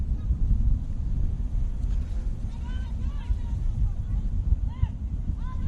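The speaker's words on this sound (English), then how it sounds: "You might be able to sense the gust of wind just based on the ring around the pitch." Wind gusts across an outdoor women's football pitch, a constant low rumbling buffet against the microphone, with faint whistles and distant voices through it.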